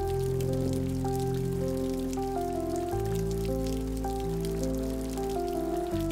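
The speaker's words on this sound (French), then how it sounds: "une fine pluie se mit à tomber" Soft, light rain patters steadily beneath sustained, gentle musical chords that play throughout.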